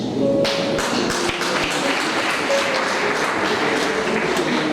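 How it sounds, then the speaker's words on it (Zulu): Audience applause at an ACDP gathering, a steady wash of many hands clapping at close range that fills the whole stretch, with a few sharper taps and thuds standing out. "Ashayelelo baba uMange ihlombe elikhulu."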